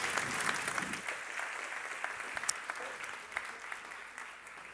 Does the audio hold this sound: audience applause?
yes